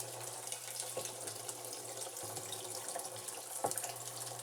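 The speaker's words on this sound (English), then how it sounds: "I can hear those granules as they're being sucked through that pump" Steady watery rushing of a pump drawing up hydroponic fertilizer granules from a tub, with a low hum underneath and a few faint clicks and rattles, no voices.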